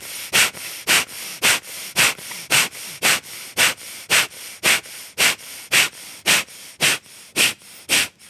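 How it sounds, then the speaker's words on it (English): Kapalbhati yoga breathing: about eighteen sharp, forceful nasal exhalations come in a quick, even rhythm, each a short hissing puff. The breaths are close and fairly loud, with no talking. "I'll do one round of Kapalbhati."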